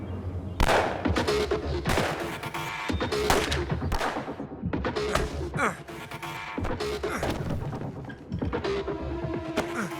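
Gunshots ring out in a TV drama, sharp repeated cracks and thuds packed closely over a busy background with music and voices.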